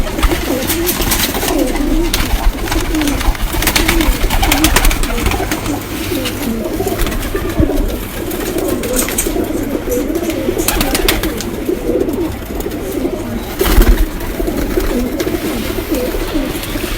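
A loft of tournament-flown pigeons in Rawalpindi fills the air with dense, continuous cooing and flutter, many birds at once, steady and fairly loud throughout.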